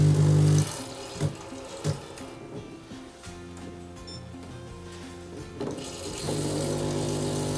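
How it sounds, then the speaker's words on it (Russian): Saeco Incanto Sirius S-Class coffee machine dispensing hot water, starting with a loud pump hum, then quieter mechanical clicks and a low whir before the pump drone returns steadily near the end. "Этот кофейный аппарат может подавать воду для добавления ее в кофе"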